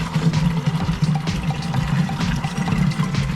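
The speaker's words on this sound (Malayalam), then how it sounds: "ഇതിൽ വെള്ളം അത്യാവശ്യം ഫോഴ്സ് ഉണ്ട്" Water gushes forcefully from a pump-fed pipe at a home tank, a loud, continuous close-up rush with a low droning hum underneath and no talking.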